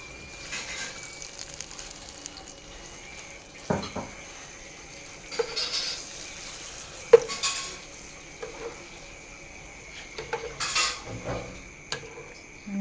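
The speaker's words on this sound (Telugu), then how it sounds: "మనం కర్డ్ రైస్ అంతా నీట్గా కలిపేసుకున్నామండి" Curd rice being mixed with a spoon in a bowl, soft scraping and squelching stirs with occasional clinks of metal against the bowl, close and fairly quiet, with brief pauses between strokes.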